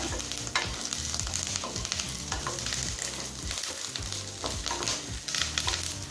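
Curry leaves sautéing in a pan make a continuous close sizzle with repeated scraping and stirring strokes, over background music.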